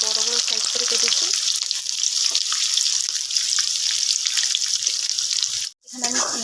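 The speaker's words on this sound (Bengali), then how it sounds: "পেঁয়াজটাকে কিন্তু ভালো করে ভেজে নিতে হবে" Large-cut chopped onions, about 250 grams, frying in hot oil in a pan for a Bengali mutton kosa, giving a loud, steady, hissing sizzle that drops out briefly near the end before resuming.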